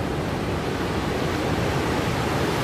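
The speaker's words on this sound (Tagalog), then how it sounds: "yan po ang dam ay ano, overflow ng lakas ng tubig" Strong water overflowing from a dam makes a loud, continuous rushing roar, steady and unbroken throughout with no voices.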